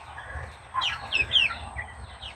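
Hens, thought to be Buff Orpingtons, cluck on a homestead in Mexico, a few close, bright chirpy calls over a low background rumble.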